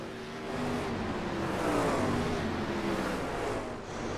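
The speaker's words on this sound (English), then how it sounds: "enjoy the sound of these 410 sprint cars" Racing engines roar past, a loud revving drone rising and falling with pitch sweeps as several 410 sprint cars speed by on a track during the Little 500 race.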